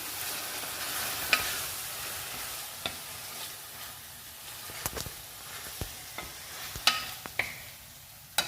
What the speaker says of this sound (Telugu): కొబ్బరి పచ్చడి తాలింపు బాగా కలుపుకోవాలి.